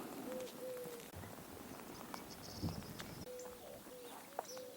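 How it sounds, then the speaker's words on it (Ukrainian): Birds singing outdoors on a rainy Easter morning, faint scattered calls with a few short tonal notes over soft background noise. "Пташки співають."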